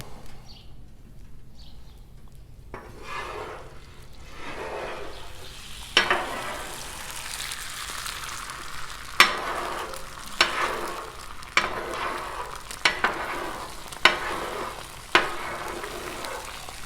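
Eggs frying on a Blackstone griddle near bacon, a steady close sizzle with several sharp pops and spatters through it, rising once the eggs hit the hot surface.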